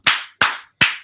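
Three sharp, slow hand claps sound close by and evenly spaced, each ringing out briefly before the next. Nothing else is heard between them.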